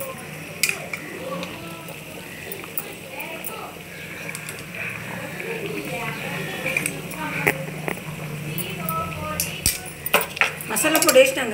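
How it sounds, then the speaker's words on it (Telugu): A spoon clinks and scrapes against a pot while masala powder is gently stirred into a simmering fish curry, with light irregular metallic taps that grow busier toward the end under quiet talk. "వేసిన తర్వాత మెల్లిగా ఇలా కదపాలండి"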